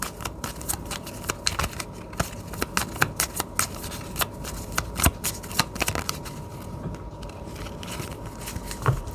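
Oracle cards are shuffled and laid out in a steady run of crisp riffling clicks and soft slaps at close range, with no talking.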